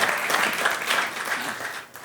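A crowd claps steadily, a dense wash of applause that carries on evenly before tapering slightly at the end.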